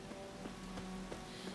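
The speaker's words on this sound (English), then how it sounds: "the sound of the rain is so relaxing" Soft, steady rain patters continuously in a video game, with scattered droplet ticks and a faint low hum underneath.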